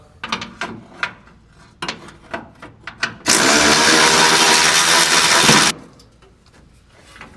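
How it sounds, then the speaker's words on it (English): A few scattered clicks and knocks, then a 1/2-inch electric ratchet on an extension whirs loudly for about two seconds, loosening bolts on a small-block Chevy engine, before cutting off to quieter handling sounds. "Got my 1/2 inch on the extension with an electric ratchet."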